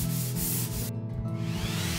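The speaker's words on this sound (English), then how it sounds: "Then I use a sandpaper to finish it." Fine sandpaper is rubbed by hand across a wooden countertop on a study desk, producing continuous close, scratchy back-and-forth strokes with one brief pause.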